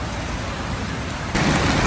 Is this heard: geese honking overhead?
no